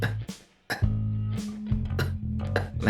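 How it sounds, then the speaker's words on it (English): A few short, dry coughs come close up, separated by brief pauses, with a faint low hum underneath. "My first symptom, and was the one that the fellow employees noticed, was the dry cough."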